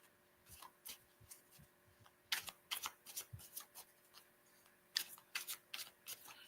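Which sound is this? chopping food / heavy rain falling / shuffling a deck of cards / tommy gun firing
shuffling a deck of cards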